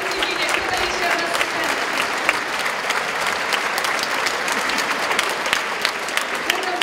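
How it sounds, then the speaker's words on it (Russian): An audience in a concert hall claps steadily in dense, sustained applause that fills the space at even loudness throughout. "Позвольте под ваши аплодисменты пригласить Евгения Федоровича"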